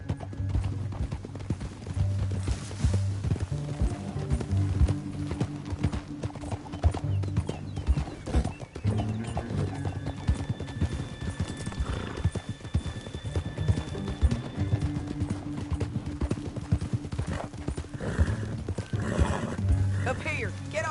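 Horses in the Red Dead Redemption 2 video game, with steady clip-clop hoofbeats of riding running throughout and several neighs and whinnies, all under a continuous game soundscape with speech.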